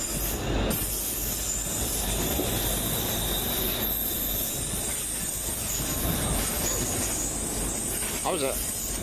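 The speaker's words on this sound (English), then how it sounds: "the train's terminated and he's now moving beyond the station" A train rolls slowly past a station along the rails after terminating, with steady rumble and hiss, wheels squealing faintly near the end.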